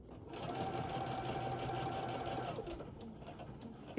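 A sewing machine runs steadily, stitching fabric for a handmade craft-fair bear, with a fast, even mechanical whir close by that slows and stops after a few seconds.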